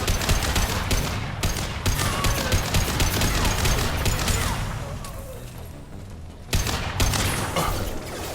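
Sustained assault rifle fire in the sci-fi shooter Mass Effect 2, dense rapid bursts crackling almost nonstop for several seconds, easing briefly before another loud burst kicks in near the end.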